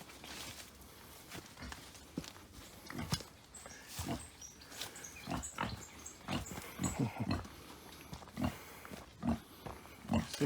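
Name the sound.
pig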